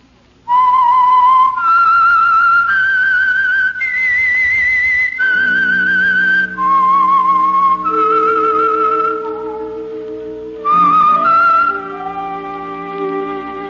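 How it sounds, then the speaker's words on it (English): A clear melodic whistle carries the slow theme tune of the radio show The Whistler, sustained notes over a soft low orchestral accompaniment, loud and close throughout. "That whistle is your signal for the Signal Oil program, The Whistler."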